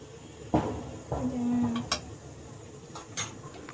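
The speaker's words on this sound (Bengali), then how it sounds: "একটু নেড়ে নিব।" A spoon stirs cinnamon sticks, cardamom pods, bay leaves and ginger powder in a cooking pot for chicken kosha, giving a few quiet, scattered clinks and scrapes against the pot with no talking.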